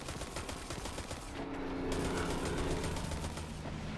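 Continuous rapid gunfire in the video game Destiny 2, a dense stream of automatic shots with explosions and combat noise underneath, steady and loud throughout.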